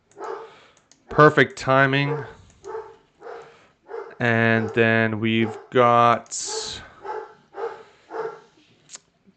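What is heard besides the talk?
dog barking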